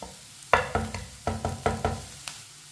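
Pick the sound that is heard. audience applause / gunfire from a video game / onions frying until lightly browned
onions frying until lightly browned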